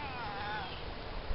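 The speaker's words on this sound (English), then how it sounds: "That's a demanding kitty." A cat meows once in a long demanding wail near a container garden, faint and partly masked by outdoor background noise.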